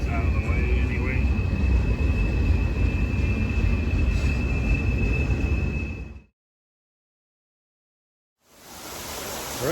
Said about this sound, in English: Well, once the train gets out of the way, anyway.